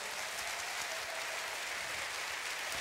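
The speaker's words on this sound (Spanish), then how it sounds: "Dale a Jesús un fuerte aplauso" During a bilingual Spanish-English men's convention church service, the congregation gives Jesus a big round of applause, a steady dense clapping sound filling the room without any voice over it.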